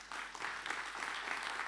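Audience applause at the official opening of a conference, a soft, fairly distant wash of many hands clapping steadily throughout.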